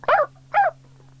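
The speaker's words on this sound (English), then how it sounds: "A barking sound was coming from the fields." Two short barks from a dog out in the fields, separated by about half a second, moderately loud with a low steady hum underneath.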